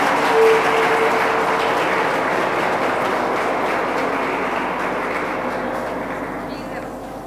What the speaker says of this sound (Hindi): प्लीज़ तालियां बजाएं.